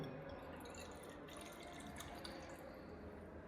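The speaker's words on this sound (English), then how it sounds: "Pour into the water in the bottle." Water pours steadily into a container, a continuous trickling, splashing flow close by with no voices.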